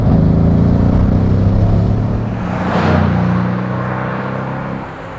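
The twin-turbocharged 4-litre V8 of a 2015 Mercedes-AMG C63 S roars and revs with a deep rumble, swelling briefly in the middle before settling back and fading.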